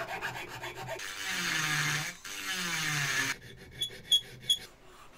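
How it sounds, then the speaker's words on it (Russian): A handmade piece is worked with a needle file, giving a close, steady rasping scrape for about two seconds, then a few quieter scratchy strokes. "нужно будет все это обработать надфилем, напильником"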